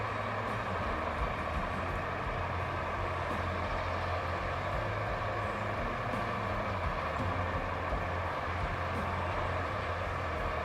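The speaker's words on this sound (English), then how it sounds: "Oh, I must have heard the dump truck." A steady, muffled dump truck engine drone from the video game RoadCraft hums on without pause, low and even, with a faint background hiss.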